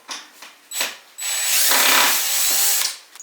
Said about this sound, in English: now I just need to simply take these screws out